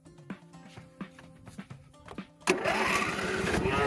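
Lawn mower engine being started: a run of rhythmic cranking pulls at a steady pace, then the engine catches and roars into a loud continuous run, close by.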